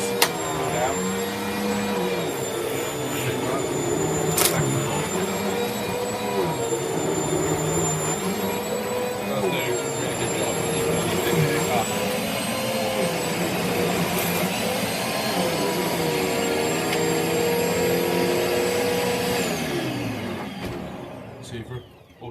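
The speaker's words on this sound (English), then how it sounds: "You just turn it on at the bottom, hold it for 2 seconds-ish." A Hoover DW1210 turbo power vacuum cleaner runs continuously with a loud whining drone and shifting pitch as it moves, then winds down near the end.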